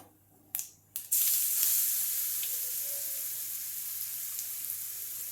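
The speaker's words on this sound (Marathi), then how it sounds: "आणि ही डाळ चांगली अशी परतवून घ्यायची तेलातच" Ground chana dal with turmeric sautéed in oil on low heat, starting with two sharp drops into the pan before a steady, close hiss of sizzling that fades slowly, with no talk.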